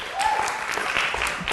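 Applause from a crowd at a county Board of Supervisors public meeting in Richmond on jail expansion, a dense steady patter of clapping filling the short stretch, with faint voices mixed in.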